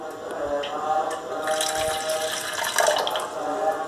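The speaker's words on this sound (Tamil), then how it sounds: "தண்ணி ஊற்றிட்டு, கீழே தண்ணி ஊற்றிட்டேன்" Water pouring into a glass holding honey during a purity test, a steady splashing trickle with running, faucet-like texture that swells midway and continues throughout, close and moderately loud.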